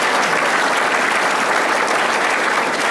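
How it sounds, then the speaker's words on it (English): An audience honoring Chicago Department of Aviation Commissioner Ginger Evans breaks into applause, a dense, even wash of many hands clapping that fills the room loudly for the whole stretch, with no talk over it. "give her an applause there"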